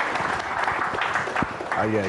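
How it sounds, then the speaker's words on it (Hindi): A television studio audience on a business news show claps steadily in the background while someone speaks over it, welcoming a guest onto the set. "जोरदार तालियों के साथ आइए आइए"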